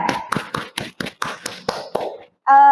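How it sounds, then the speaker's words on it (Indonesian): A few classmates in a mathematics classroom give a sparse round of about eight distinct, close handclaps spaced evenly, ending abruptly, followed by a brief tonal beep. "Oke, tepuk tangan buat Arfan."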